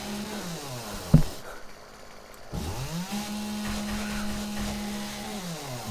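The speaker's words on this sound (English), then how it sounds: "A chainsaw to the face." Chainsaw revving and grinding through zombies in 7 Days To Die, a sharp hit then a brief drop before a loud, steady buzzing drone.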